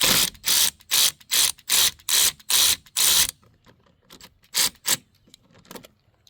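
A hand ratchet loosens the battery terminal nut on a 2016 Kia Sportage, giving a quick series of sharp, evenly spaced clicks up close, then a pause before a few more spaced clicks.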